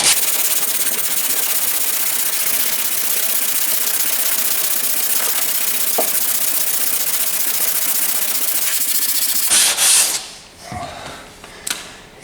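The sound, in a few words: sanding car body work on a 2012 Chevy Impala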